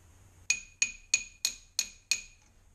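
Six evenly spaced metallic taps of a socket being struck to seat a valve stem seal on a Ford 1.8 TDCi cylinder head, each a sharp ringing clink that decays quickly, close and clear with no talk.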